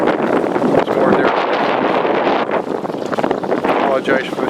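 Heavy wind buffeting the microphone on a shoreline throughout, a loud roaring rumble with gusty swells and faint talk underneath.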